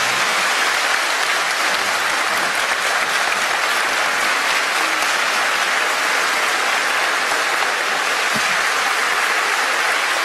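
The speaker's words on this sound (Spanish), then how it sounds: "Fuerte el aplauso." Loud, dense applause from a large audience at a religious freedom symposium, steady and sustained throughout without letting up.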